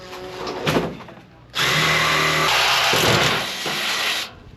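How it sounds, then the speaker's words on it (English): A power drill bores an anchor hole while a Harbor Freight lift is set up, with one short burst followed by a longer, loud, steady whir that eases slightly before stopping. "And then we can drill out this back one."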